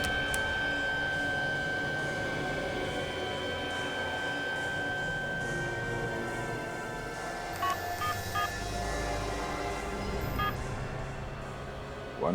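A phone number is keyed in on a mobile phone with a SIM card inserted, giving a series of short tonal beeps that come in a cluster near the end over a steady background hum, with faint talk underneath.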